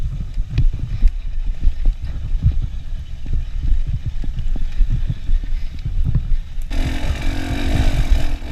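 A motorbike picking its way over a boulder section at a TKO enduro race, its engine coughing in short, irregular bursts with rapid throttle blips, fairly close.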